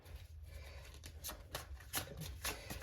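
Soft, close tarot card shuffling with repeated light riffles and slaps in an uneven rhythm, faint and alone.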